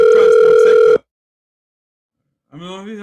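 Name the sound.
telephone call ringing out, unanswered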